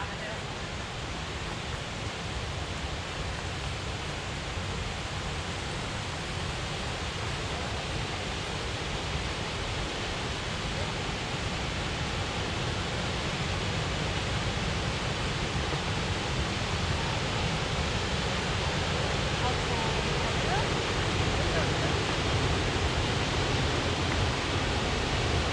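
Waterfall at Paronella Park in Queensland roars as a dense, steady broadband rush, loud and unbroken throughout, with no change in level.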